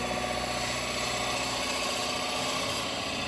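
Wood lathe motor running at a reduced speed, a steady unbroken hum and whine held close and fairly loud throughout, with no one speaking.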